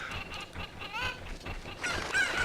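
Chickens in Zelda: Ocarina of Time give nasal squawking clucks and warbling calls, several in a row, fairly close and up front with no talk.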